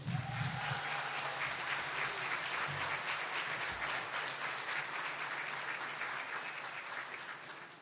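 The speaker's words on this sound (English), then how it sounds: "give a big warm round of applause to Mayor Bell from the city of Lamarque" An audience at a business luncheon in Texas City–La Marque gives Mayor Bell a round of applause, a dense and steady clapping that holds for several seconds and then slowly tapers off, with a few cheers near the start.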